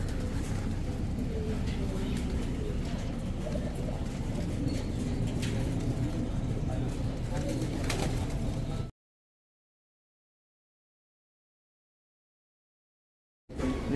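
Pigeons coo in a loft, a steady layered murmur of birds close by for most of the span before it cuts to silence, with a brief return at the very end.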